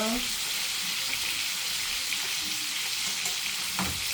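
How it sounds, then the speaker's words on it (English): Sliced kielbasa sausage sautéing in a hot pan, giving a steady, dense sizzle and crackle that continues without a break, with faint stirring clatter near the end and no one speaking. "It's more like a nice saute going on."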